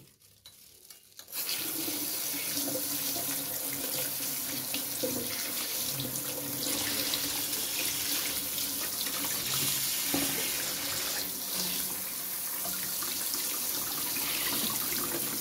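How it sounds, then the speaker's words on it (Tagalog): Hairy gourd being washed under a running kitchen tap, a continuous close gush of water splashing into the sink, with faint rubbing and handling shifts as the vegetable is turned. "Then, hugasan natin."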